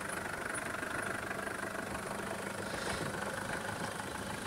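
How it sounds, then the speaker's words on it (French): A low Jeep engine idles steadily while crawling in first gear, chugging evenly with no revving or pauses, fairly quiet and close. "pas besoin de gaz, la voiture monte uniquement sur le couple moteur"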